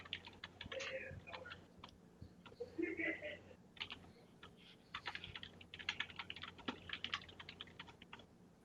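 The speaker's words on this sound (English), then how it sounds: "I hear a lot of clicking going on. He's typing" Computer keyboard keys clatter in quick irregular bursts with scattered mouse-like clicks, heard close but fairly quiet during a tabletop role-playing session, with some voices murmuring over parts of it.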